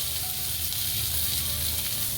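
Chopped onion and fennel seeds sizzling and frying in hot oil in a pan, a steady, close, continuous crackle with no talking over it.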